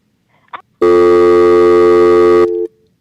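Telephone line tone after a caller's call drops: a loud, steady electronic buzz lasting nearly two seconds, cutting off abruptly, preceded by a brief faint blip.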